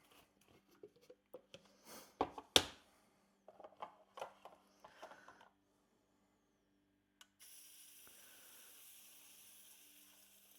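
A waffle maker cooking a high-protein waffle batter gives off a steady, even hiss of steam that starts partway through and carries on to the end, after a run of soft clicks and handling knocks.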